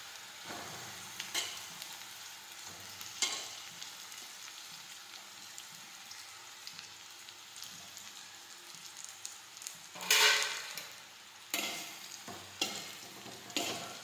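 Roti pieces fry with garlic in a pan while being stirred, a steady soft sizzle broken by louder scraping bursts of the spoon against the pan, close by, with no talking.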